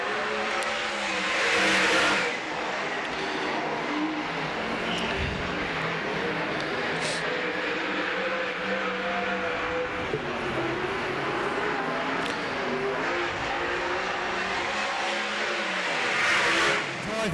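Sprint cars race around the Baypark Speedway oval, their engines roaring continuously and swelling loudly as the pack passes close by, with a commentator talking over the din.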